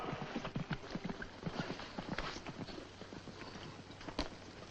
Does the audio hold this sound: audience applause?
no